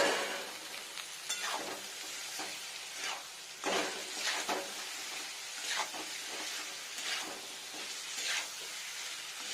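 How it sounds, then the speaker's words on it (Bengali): Potatoes and pointed gourd frying in a pan for a vegetarian curry, a soft continuous sizzle broken by repeated scraping stirs at an uneven rhythm. "এবারে পটল আর একটু দিয়ে নেবো আলু এর মধ্যে ভাজা ভাজা হবে"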